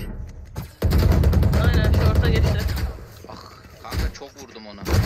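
Automatic rifle bursts in the tactical shooter Valorant crackle in dense, fast volleys through the middle of the clip, then give way to quieter shots and movement, with players talking over the action.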